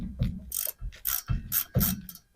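Ratchet clicking in bursts while a mechanic loosens 1/2 inch bolts on the carrier bearing of a 1972 Ford F100, several quick metallic ratcheting runs, close and fairly loud, with no talking.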